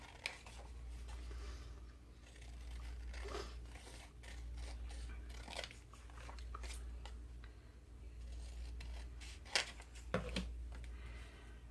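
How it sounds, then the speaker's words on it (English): Scissors trim a paper index card in a quiet room: faint, sparse snips and soft paper rustles scattered over several seconds, with a couple of slightly sharper cuts near the end. "So I'm going to go ahead and trim this out first to see if it'll fit before I watercolor all those cards."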